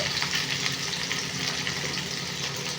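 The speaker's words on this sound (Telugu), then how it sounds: "ఇప్పుడైతే మనం ఇందులో బెండకాయలు వేసుకొని వేంపేసుకుందాము బెండకాయలు వేసుకొని వండుకోవాలి" Okra (bhindi) frying in an open pan, a steady dense sizzle and crackle of oil holding evenly throughout without pause, close and fairly loud, with no talking.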